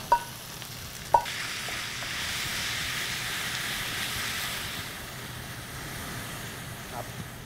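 Pork and vegetables stir-fry in a pan, giving a steady sizzle with a couple of sharp clinks of a utensil at the start and a quieter tap near the end.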